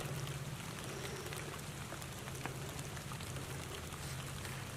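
Light rain falling steadily outdoors near a tree, a soft continuous patter of drops at moderate distance with a faint low hum underneath and no voices.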